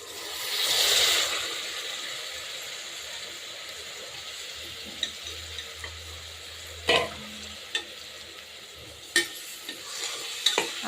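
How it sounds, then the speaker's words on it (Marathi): Moth beans (matki) fry in a spiced pan, a soft steady sizzle under a loud burst of hiss at the start and several sharp scraping stirs and knocks later on. "आता मी टाकते मटकी."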